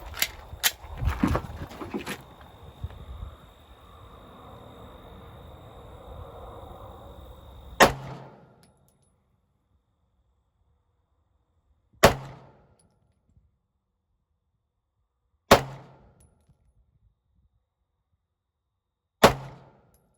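Pistol shots at an outdoor range while zeroing a red dot sight, with a busy cluster of sharp cracks and clatter up front, then three loud single shots spaced several seconds apart, each followed by a short echo tail and silence.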